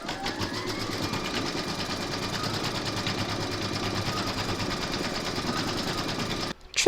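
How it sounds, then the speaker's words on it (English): An embroidery machine stitching a hooped door tag runs with a steady fast mechanical whir and rhythmic needle ticking, close and continuous, stopping abruptly near the end. "Pop your hoop into your machine and stitch round number 2 to secure it."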